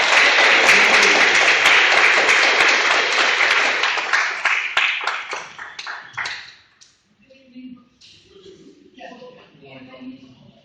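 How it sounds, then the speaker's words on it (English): Loud, dense audience applause for a school bus driver and union member taking the stage at a solidarity event, sustained for several seconds before thinning into scattered claps and fading under room noise. "So, Mr. Georgia, let's give her a welcome applause."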